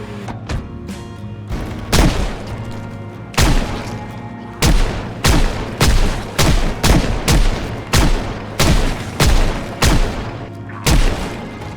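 Bursts of M249 light machine gun fire in the Project Zomboid video game, loud and close, arriving as a dozen or so sharp cracks and short volleys spaced irregularly over a low steady hum.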